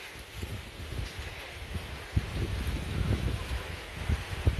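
Steady strong wind blusters against the microphone outdoors near a plum tree, low rumbling gusts with occasional sharper bumps, continuous throughout.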